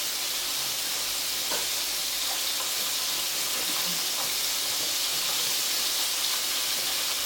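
Chicken livers fry in a hot pan with a steady broadband sizzle and hiss, a few faint pops and crackles scattered through, close and continuous with no talking.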